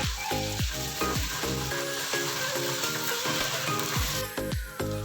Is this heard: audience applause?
no